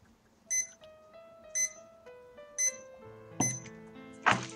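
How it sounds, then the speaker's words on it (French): Electronic beeps repeat at a regular pace, four or five bright chirps over a soft sustained tone that steps in pitch, ending in a louder harsher burst, with no talk. "Désolé pour le bip bip."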